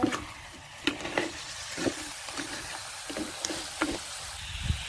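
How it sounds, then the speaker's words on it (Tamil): Jaffna crab curry stirred in a pan with a coconut gravy, a steady low sizzle broken by repeated scraping knocks of the spoon roughly every half second, close and moderately loud, no voices. "கிண்டி விடுவோம்."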